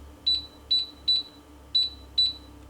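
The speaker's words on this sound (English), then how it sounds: "there is a green button on the back of this door. Press it. You'll hear the beep." A biometric fingerprint safe gives a series of short, bright electronic beeps as its buttons are pressed, five evenly spaced chirps in a quick run over a low background hum.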